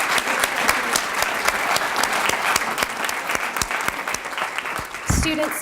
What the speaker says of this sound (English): Let's give all of our Student of the Months one more big round of applause.